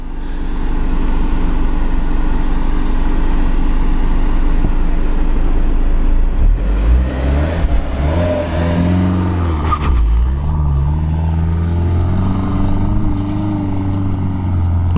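A Lada Niva 4x4 strains up a hill in low gear, its engine droning loud and close at sustained high revs, with the pitch rising and dipping as it surges and bogs under load; no voices.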